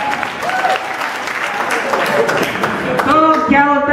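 An audience at a Central University of Rajasthan event claps in a short, moderately loud burst, mixed in with a speaker's voice.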